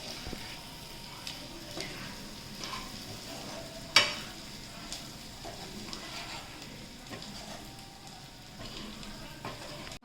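Corn chevda with turmeric and chilli being stirred in a pan, soft scraping and light sizzling with occasional louder clinks of the spoon, one sharp knock partway through, steady and close.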